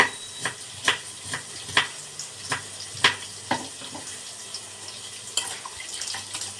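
Chopped cabbage being washed in water in a kitchen sink, with steady running and splashing water punctuated by repeated sharp, clattering handling sounds at close range, and no talking.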